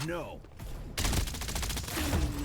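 Rapid automatic gunfire in the battle royale shooter Farlight 84 rattles out in a dense burst after a brief pause, mixed with game effects, while a player talks at the start.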